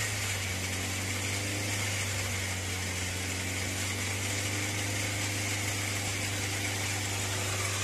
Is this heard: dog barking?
no